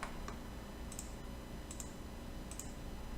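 Computer mouse clicks while drawing a wall profile in design software, three or four sharp, small clicks spaced under a second apart over a constant faint hum, close and quiet, with no talking.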